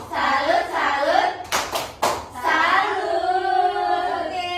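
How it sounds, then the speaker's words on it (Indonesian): A class performs the rhythmic 'tepuk salut' clapping chant, children clapping in unison with sung chanting voices over it, a few sharp louder claps standing out midway. "Beri tepuk salut untuk kelompok 1."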